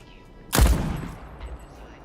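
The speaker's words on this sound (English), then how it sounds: "I love the sound of this gun." A single heavy gunshot from a weapon in the video game Deathloop booms close and loud, with a deep punchy blast that rolls off into a short decaying tail.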